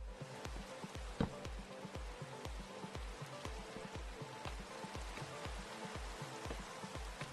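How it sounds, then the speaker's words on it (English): Rain falls steadily in the Minecraft video game as a continuous wash of patter, joined by a regular pulsing low thump through most of the stretch; no voices are heard. "I suppose it's raining?"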